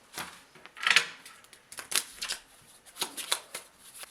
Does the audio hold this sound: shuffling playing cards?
yes